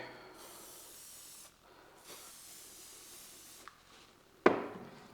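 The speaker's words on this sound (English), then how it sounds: "First off, again, spray it with some hairspray." Two long, steady hairspray sprays hiss close to the mic onto model railway scenery, then a brief pause, a click and a sharp puff.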